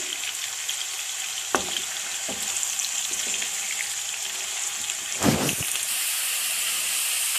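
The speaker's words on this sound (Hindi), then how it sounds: "हाफ प्याली ऑयल डालने के बाद मैंने इसमें प्याज डाल दिया है और इसको अब हम लाइट ब्राउन करेंगे।" Onion frying in about half a cup of oil, a steady broadband hiss and crackle running throughout, with a couple of brief clatters from a utensil partway through.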